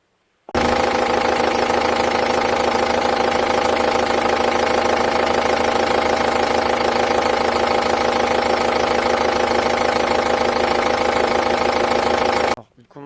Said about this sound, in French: on va faire tourner le moteur et on va voir